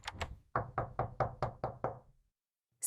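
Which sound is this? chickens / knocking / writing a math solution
knocking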